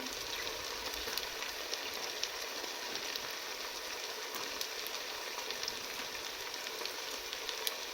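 A large onion sliced into strips frying in a pan with browned beef and its juices, a soft, even, continuous sizzle heard at a distance with no other sounds.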